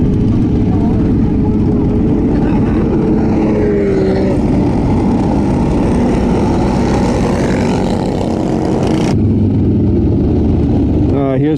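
Cross karts at a car meet drive past one after another, a loud, continuous buzzing engine drone at close range with changing pitch, over a busy outdoor crowd and voices talking.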